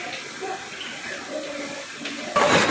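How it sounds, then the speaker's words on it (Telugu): Water trickles down from the rock overhead at a hill shrine near Srisailam, a soft, steady running and dripping that swells into a louder splash near the end. "పైన నీళ్ళు చూడండి, ఎట్లా పాకర వచ్చేసింది, పచ్చగా కారుతున్నాయి, పైనుంచి వస్తూనే ఉన్నాయి జలధార"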